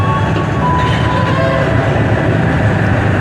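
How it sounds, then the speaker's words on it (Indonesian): A Cermai passenger train running out of Cikampek station on its way from Bandung toward Semarang, a loud, steady low rumble of rolling wagons with a faint high tonal whine drifting in. "Ini kereta api Cermain teman-teman, yang dari Bandung menuju ke arah Semarang."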